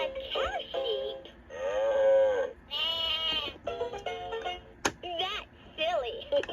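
Toy animal sounds from a 2007 Leapfrog Fridge Farm magnetic animal set, with a loud sheep bleat and cow-like calls alternating with a sung voice over about six seconds, close and clear.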